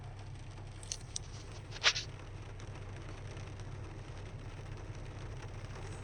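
Soft, faint rain patters steadily over a low background hum, with a few isolated louder drips breaking through.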